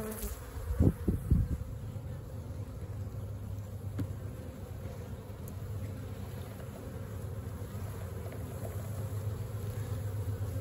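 A dense, steady buzz of many honeybees hovering close by a hive, with a few thumps near the start and a constant drone throughout.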